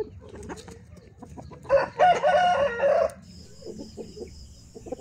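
A rooster crows once, loud and drawn out for about a second, over quiet background chatter and faint bird calls.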